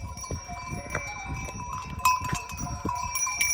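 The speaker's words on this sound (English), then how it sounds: "Goats and sheep, it's all good." Goats and sheep crowd a footpath on the Camino, with scattered bleats and clanking bells over shuffling hooves and outdoor noise, close by and continuous.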